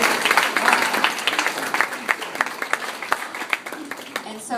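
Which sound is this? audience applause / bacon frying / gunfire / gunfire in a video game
audience applause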